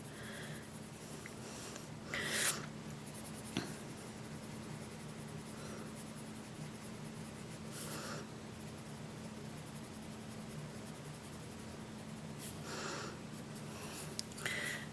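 A Prismacolor colored pencil in 30% cool gray shades rocks on paper, giving faint, dry scratching strokes in a few short bursts over a steady low background hum.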